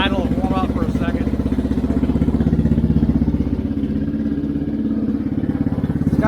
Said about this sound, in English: Let her idle and warm up for a second.